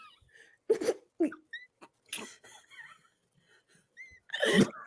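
A voice imitates a small animal sneeze, giving several short, breathy, squeaky bursts with brief pauses between them, close and fairly quiet.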